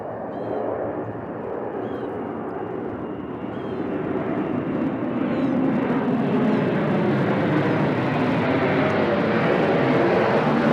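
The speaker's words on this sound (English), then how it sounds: "So this is Delta going to Los Angeles International Airport." A Delta airliner departs Nashville International Airport bound for Los Angeles, its jet engines roaring loudly and steadily for the whole stretch and building slightly as it climbs out.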